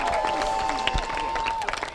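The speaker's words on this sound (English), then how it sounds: "a big round of applause for Pollock's" Crowd at a superstock car racing event applauding, dense clapping and some cheering with a held tone in the background, fairly close and steady.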